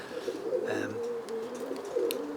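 Roller pigeons, including a red cock, cooing in a loft, with soft throaty coos and a few low tonal calls close by, plus faint chirps in the background.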